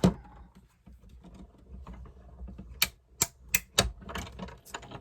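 A layered card sandwich is cranked through a die-cutting machine while making a handmade card, with soft rolling rumble and a run of sharp clicks and ratchety ticks as it passes through, close by and otherwise quiet.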